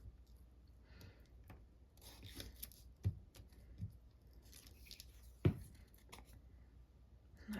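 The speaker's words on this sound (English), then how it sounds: "Now I'm just going to trim that" Scissors trim a scrap of plain paper for a junk journal craft, giving quiet, close snips and rubbing paper rustles with a couple of sharper cuts, no talking.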